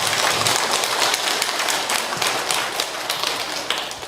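Audience applause at a Catholic priest's lecture on aging, a dense, steady wash of many hands clapping throughout, close and fairly loud with no talk.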